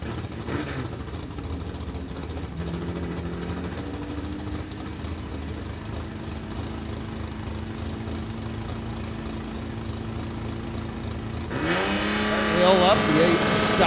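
A 1963 Chevy Nova with a 194 cubic inch engine and a 440 cubic inch Cuda at an NHRA drag race at Beech Bend Raceway, steady engine drone that swells louder near the end.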